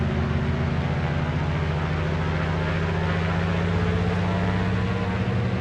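Twin radial engines of a Grumman JRF-6B Goose in Microsoft Flight Simulator roar steadily at takeoff power, a loud, continuous droning hum with a low propeller throb and no speech.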